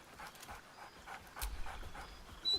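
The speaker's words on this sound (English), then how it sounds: "Scratch barks merrily in something like agreement" In a video game, the dog Scratch gives a run of quick, rhythmic, breathy yaps or pants, moderately close, ending on a louder burst.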